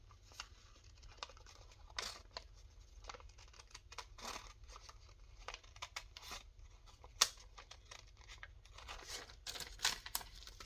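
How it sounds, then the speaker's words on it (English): Scissors cut a leaf shape out of vellum, with a quiet, irregular run of crisp snips and crinkly paper rustles close by and no talking. "let me see if I can cut this leaf out. This is just on vellum."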